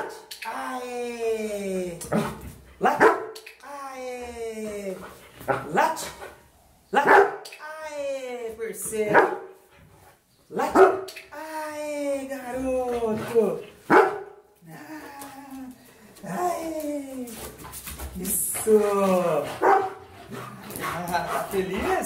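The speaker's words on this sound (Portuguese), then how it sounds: "o cachorro tá feliz e tende a latir porque tá feliz" Happy dog barking repeatedly on command during clicker training, sharp close barks and yips coming in bursts between a person's excited spoken prompts.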